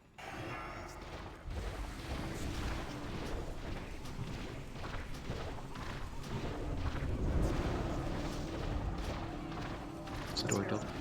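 Heavy booming blasts from the VX-001 anti-personnel assault cannon in World of Warcraft's Ulduar raid, a dense, loud barrage of repeated explosive fire with rumbling low end, continuing steadily for several seconds with no speech.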